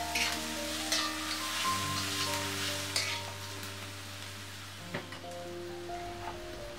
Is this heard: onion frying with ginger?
yes